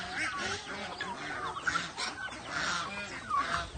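Geese and other fowl honking and calling together, a steady, fairly faint flock chorus with overlapping cries.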